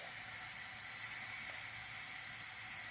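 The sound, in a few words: pressure cooker hissing steam while cooking vegetable peelings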